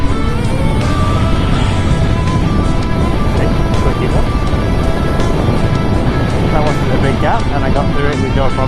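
A Triumph Speed Twin motorcycle rides along with a loud, steady engine drone under heavy wind rush, the engine note rising and shifting as the bike pulls through the ride.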